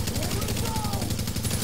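Rapid automatic gunfire in the shooter game Tom Clancy's The Division, a steady stream of shots running throughout under other game noise.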